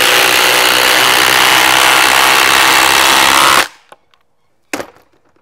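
Two impact drivers, a Milwaukee Gen 4 and a Hercules, run side by side driving 14 millimeter, 6-inch lag screws, giving a loud, steady hammering whir for several seconds that stops abruptly, followed by a couple of faint clicks and a short knock.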